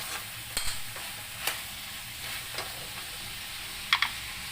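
Potatoes go into a pan of pineapple chicken with carrots, sizzling and frying with a steady hiss broken by a few sharp stirring scrapes and clinks.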